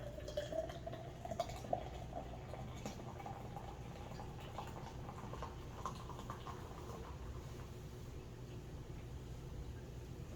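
Pepsi Nitro poured hard into a glass gives a soft, continuous fizzing and foaming hiss, faint and close, running steadily with small bubbly crackles.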